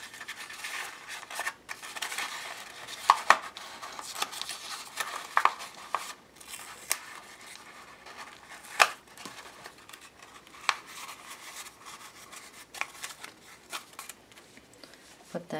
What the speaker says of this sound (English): So I'm going to cut the other heart out.